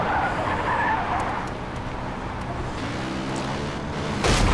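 A car in the game Far Cry 5 driving on autopilot, its engine droning steadily with tires skidding and squealing throughout, ending on a louder burst, and no speech.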